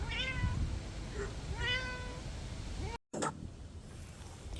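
A cat meows twice, clear and close, with a short chirp between; a brief dropout follows, then quiet room noise.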